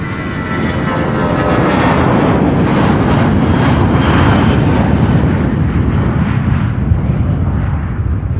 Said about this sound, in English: The A300 on the move.